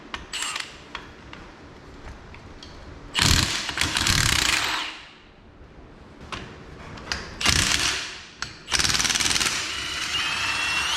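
A ratchet works on rear suspension parts of a 1976 Chrysler Cordoba, giving loud bursts of fast clicking and mechanical rattling separated by quieter pauses, all close up in a garage.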